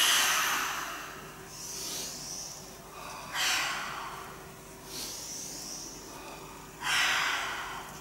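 Forceful Kundalini yoga breathing: a steady series of sharp, hissing breaths through the nose, roughly four bursts, each swelling and then fading, close and fairly quiet with no talking.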